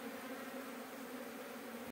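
Indian honey bees (Apis cerana indica) buzzing steadily as a dense colony during a hive transfer, a continuous close drone that holds level throughout and then cuts off abruptly at the end.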